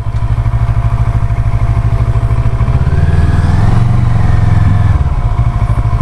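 A Kawasaki ER6N motorcycle engine runs loud and close, its pulsing idle rising into a throaty rev midway before settling back down. No voices.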